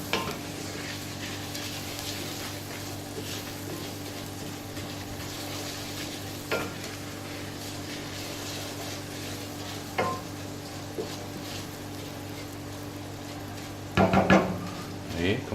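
Risotto rice stirred and toasted in a pan as the grains turn pearly, with a steady soft sizzle and scraping stir running throughout, close up, a few sharper clatters near the end.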